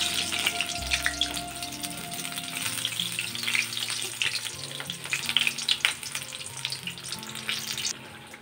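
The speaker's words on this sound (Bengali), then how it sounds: "ফ্লেমটা লো করে ভাজলে বড়াগুলো খেতে খুব ভালো হবে, মুচমুচে হবে" Bottle gourd leaf fritters fry in oil over a low flame, a steady crackling sizzle with light spatter and a soft musical hum underneath throughout.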